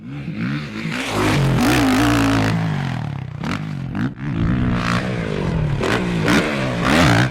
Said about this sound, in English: That's Afraida's Alex Harville, world record dirt motorcycle jumper, flying off a dusty jump ramp while practicing his technique at Soap Lake Sand Pit.